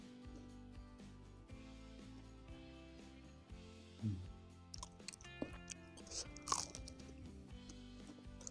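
Crispy fried Indonesian gorengan fritters such as bakwan are bitten and chewed close up, a series of crunchy bites and chewing noises over a quiet background with scattered louder crackles.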